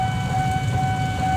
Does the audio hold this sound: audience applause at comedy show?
no